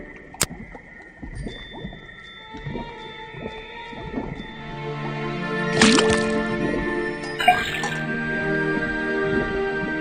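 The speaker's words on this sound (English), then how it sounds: "put the sample of liquid into the cauldron, then tap the faucet" In the Detective Grimoire video game, liquid runs from a tapped faucet into a cauldron as wet drips, squishy plops and a louder splash over sustained tonal, whale-like game ambience and music.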